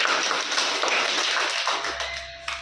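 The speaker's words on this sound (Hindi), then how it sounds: "ताली बजा दीजिए।" Children clap together before a storytelling session, a dense, fast patter of many small hands filling the space, loud and steady, tapering slightly near the end.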